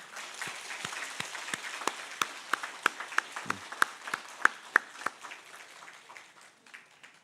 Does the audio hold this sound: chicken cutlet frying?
no